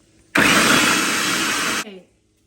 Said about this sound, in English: you're gonna blend the peppers with the onion and some green onion in your food processor